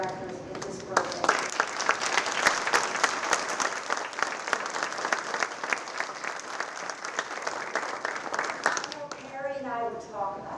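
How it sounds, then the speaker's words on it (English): An audience at a public library's 20th anniversary celebration bursts into sustained applause, dense clapping that swells and holds for about eight seconds before thinning out, with a voice speaking at the start and as it fades. "I think that just a round of applause."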